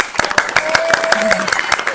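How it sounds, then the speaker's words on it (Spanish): A small audience welcomes a guest psychologist to a podcast with rhythmic clapping, evenly spaced claps over a faint murmur of voices and a brief tonal sound. "Recibámosla con un fuerte aplauso."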